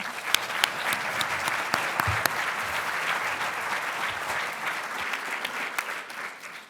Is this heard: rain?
no